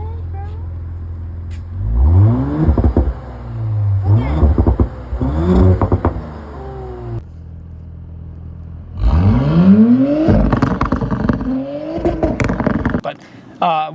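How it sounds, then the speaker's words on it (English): Stock Audi B9 S4 engine and exhaust rev in repeated sharp bursts, with rising and falling pitch and idle gaps between them. "I will throw in a clip of my car from when it was stock and kind of show you the difference."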